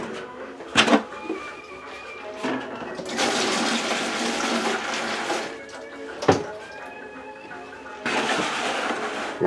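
Ammonia poured into a wash basin of water for soaking old coffee grinder parts, a continuous splashing pour in two main bursts with sharp knocks and clunks of handling between them.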